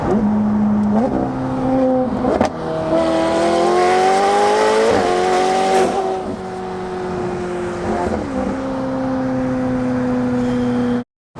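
A McLaren sports car engine pulls hard from inside the cabin, its loud rising whine climbing through several gear changes with brief dips between shifts, sustained and close, before cutting off abruptly.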